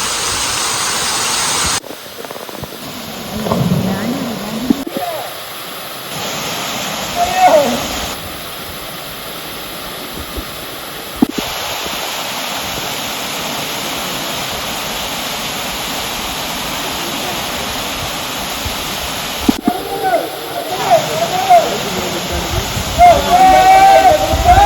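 Waterfall on a rainy day at Kalyana Oru near Valanchery, Malappuram, a broad steady rush of falling water that continues throughout, with voices talking over it at times.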